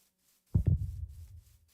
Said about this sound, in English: If I turn up this, you should be able to hear